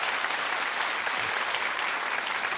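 Studio audience at a daytime talk show breaks into sustained applause, a dense, even roar of many hands clapping that stays steady throughout.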